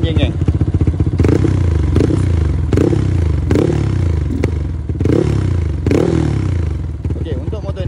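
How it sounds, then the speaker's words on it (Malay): A motorcycle tuned to 'spec 68 jet6' for sale runs loud and close, its engine blipped in a series of repeated revs about once a second over a steady, throbbing idle. "dengar bunyi enjin geng."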